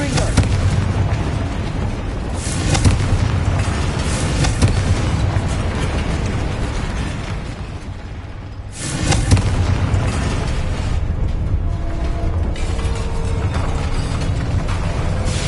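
Bombarda explosion spell in Hogwarts Legacy, heavy booming blasts with rumbling, clattering debris and mechanical rattling, a loud fresh detonation about midway after a brief lull, with occasional voices over the game noise.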